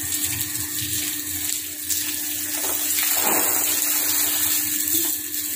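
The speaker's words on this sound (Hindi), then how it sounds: "अब हम यहाँ पानी डालेंगे" Water poured and splashing across a floor during washing after sweeping, a steady rushing wash with a stronger splash midway, continuous and close.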